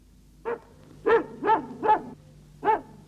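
A dog barks five times in short, sharp bursts with uneven gaps, fairly close and loud against a quiet background.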